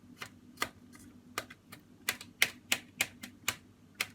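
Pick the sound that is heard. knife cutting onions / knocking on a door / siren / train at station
knife cutting onions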